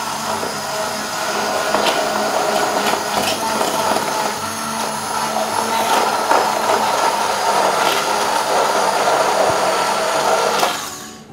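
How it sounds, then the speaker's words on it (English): A stick blender whirs through pancake batter made of flour, sugar and wet ingredients, running as a loud, steady buzz for about ten seconds before cutting off abruptly. "to mix it all together I'm going to use the stick blender"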